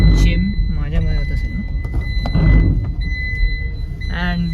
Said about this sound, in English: And the car is beeping because of this.